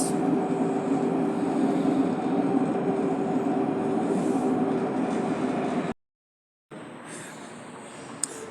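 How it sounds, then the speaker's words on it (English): Steady rumbling hum of a tram rolling along its rails, heard from the back of the car, broken by a brief silent gap before the droning resumes. "I am at the back of the tram because I prefer to be at the back"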